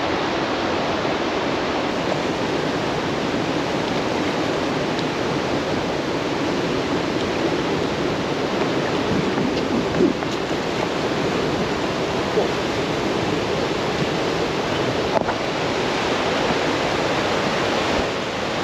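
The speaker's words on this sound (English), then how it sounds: "Can you hear that almighty roar? We have a weir" A weir's water roars in a steady, loud, unbroken rush that fills the whole stretch, close by with no pauses and no clear talking.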